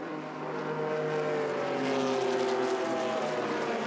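A 1967 Datsun Roadster race car accelerates out of a corner at a vintage motorsports reunion, a steady engine drone with rising tones, loud and sustained from a moderate distance.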